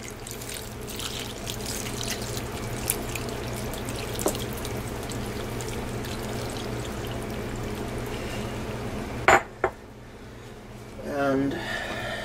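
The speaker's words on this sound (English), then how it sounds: "Now we're going to add our remaining 3 cups" Three cups of beef broth pour steadily into a slow cooker for a cassoulet, a continuous close liquid stream that ends with a few clunks and handling sounds.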